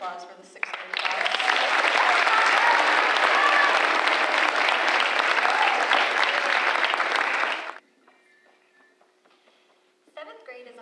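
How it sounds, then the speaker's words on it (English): An audience at a middle school culminating ceremony gives the sixth grade class a long round of applause, loud and steady for several seconds before cutting off, followed by faint quiet sounds and a brief voice. "One more round of applause for the sixth grade class"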